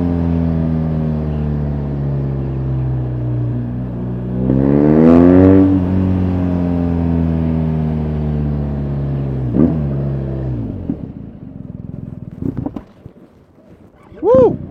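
A BMW R1250RS motorcycle engine runs with a steady, close rumble, revs up and down, then sputters and dies, leaving near silence before a short tonal sound at the very end.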